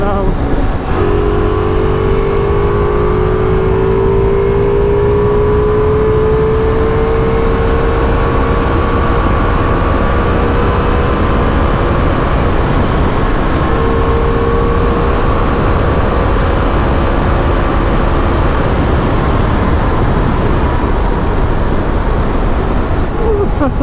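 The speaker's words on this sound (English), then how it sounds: "Every time I roll the throttle on this bike, I just fall in love." A Ducati motorcycle engine revving as the throttle is rolled on, a loud sustained rising drone over heavy wind rush while riding.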